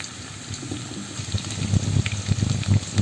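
Minced beef and chopped tomato frying in oil in a pan, a steady close sizzle with bubbling crackles that grow louder and busier toward the end, no talk.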